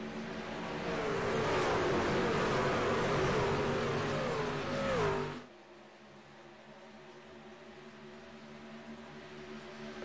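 Race cars pull away on the track at a green-flag restart on lap 11 of 80, a loud swelling engine roar with pitch sweeps. It cuts off abruptly midway, leaving a faint low hum.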